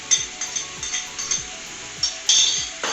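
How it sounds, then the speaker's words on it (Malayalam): A metal spoon clinks and scrapes against a pan while crushed ginger, garlic and green chilli are stirred into sautéed onions for Malappuram-style biryani, giving repeated sharp taps over a low sizzle with no talking. "ഇഞ്ചി ചതച്ചത്, വെളുത്തുള്ളി ചതച്ചത്, പച്ചമുളക് ചതച്ചതും ആഡ് ചെയ്തിട്ട് നമ്മൾ ഇളക്കി കൊടുക്കാൻ പോവാണ്"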